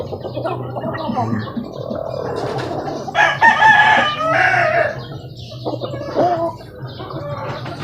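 Young chicks peep in a brooder, a scatter of high, thin calls with a louder cluster in the middle, close by over low background noise.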